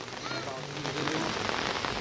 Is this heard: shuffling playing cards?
no